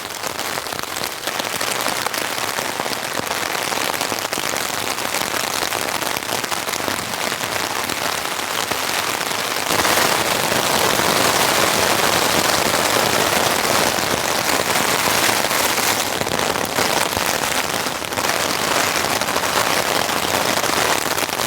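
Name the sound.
heavy rain while camping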